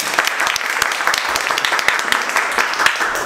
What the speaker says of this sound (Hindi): खड़े हो जरा एक बार इनके लिए जोरदार ताली बजाओ